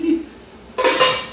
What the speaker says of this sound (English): There's our lid.